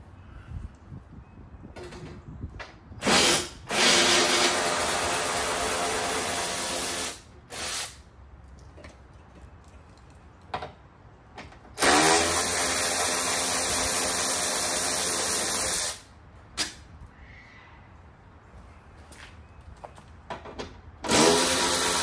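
A power tool, likely an impact driver or ratchet, removing the four headlight bolts on a 2015 Nissan Altima, heard as several sustained whirring bursts of a few seconds each, separated by quieter gaps with faint clicks and clunks.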